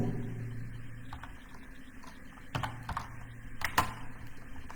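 Sparse keystrokes tap on a computer keyboard at close range, a few isolated clicks and a short cluster near the end against a quiet room hum, with no talking.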